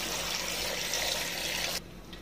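Plain tap water runs steadily into a cooking vessel for boiling chopped tapioca, a close, continuous gushing stream that cuts off abruptly near the end.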